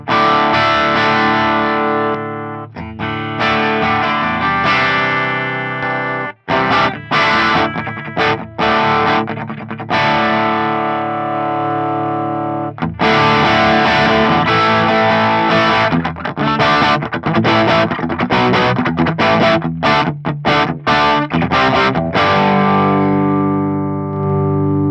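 Electric guitar played through the boost built into the Fractal Audio Axe-Fx III amp block, loud driven chords and ringing riffs with reverb, sustained phrases broken by short pauses, with no talking.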